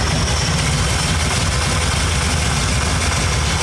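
A 1970 Ford Falcon engine idles loud and close with a steady, rough low rumble and constant vibration while its idle screws are adjusted, no voices.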